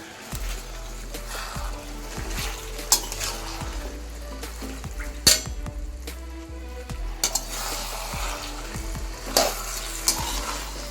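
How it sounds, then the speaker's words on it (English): Aloo gobi vegetables shaken and mixed with a hot tadka in a pan, a continuous sizzle with scraping and clattering of the spoon and pan, close and fairly loud, no talking. "So let's shake it and mix it thoroughly with the tadka."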